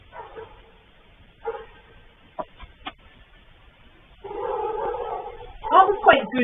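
Puppies yip and bark in short bursts around a farmyard where hens also cluck, the sounds intermittent and fairly close, with people talking over them.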